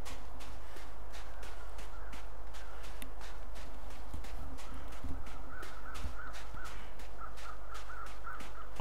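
Crows caw repeatedly in the survival video game The Long Dark, harsh calls at a quick irregular rhythm over a low steady wind-like background, with a few soft thuds like footsteps.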